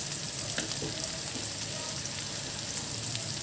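Chicken with spices and gongura frying in a pan with a steady, close hiss, broken by a few light scrapes of stirring.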